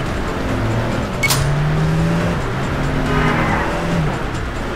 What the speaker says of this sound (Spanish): yo voy con esta chufa de coche, el Peugeot este raro